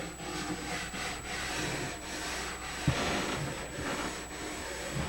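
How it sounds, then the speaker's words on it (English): A nylon brush scrubs Swix glide wax cleaner into a ski base in a steady, continuous rubbing rasp with a rhythmic back-and-forth swell. It sounds close and fairly loud, with no voices. "Go ahead and rub it over real good. Again, this is with the nylon brush for step one on the brushing."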